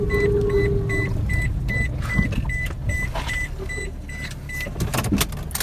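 A car being locked in a parking spot, with a series of short, evenly spaced electronic chirps and a brief motor whir over a low background rumble.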